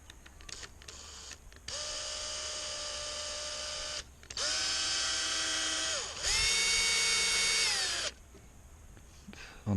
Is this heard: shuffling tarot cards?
no